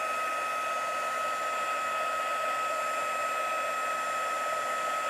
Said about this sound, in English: my heat tool, and I'll try to bring this in close so you can watch it